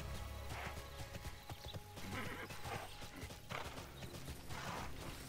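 Horse in the MMORPG TERA neighing amid steady clip-clopping hooves, a busy rhythmic trot over the whole stretch, fairly faint overall with no talk.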